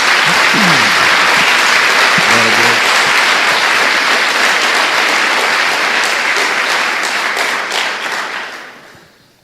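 Loud, dense applause from a church congregation fills the room steadily for about eight seconds before fading out, with a few voices calling out over the clapping.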